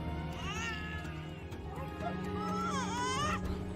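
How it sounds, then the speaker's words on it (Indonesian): A baby cries and wails through a phone line, its thin, rising and falling cries broken into several bursts over a steady low background hum. "Kok malah suara bayi sih?"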